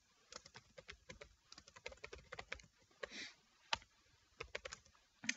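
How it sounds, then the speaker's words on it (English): Quiet, rapid typing on a computer keyboard, irregular bursts of light key clicks with brief pauses, close and alone with no voice. "And if you type in John Brown"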